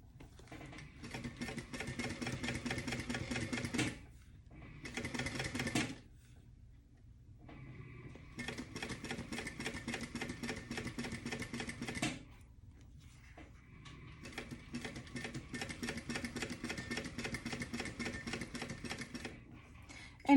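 A sewing machine stitching a tote bag seam, running in three long steady bursts with rapid rhythmic needle chatter, separated by short quiet pauses, close and even.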